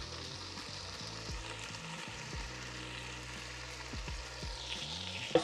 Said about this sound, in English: now we're gonna add some ground beef. Just crumble that up a little bit.